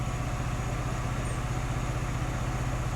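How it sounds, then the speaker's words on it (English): A 2.7-liter engine in a 2023 Ford Bronco Outer Banks idles continuously, low and even, with a faint mechanical clatter layered on top and no talking. "You hear that engine change sounds there?"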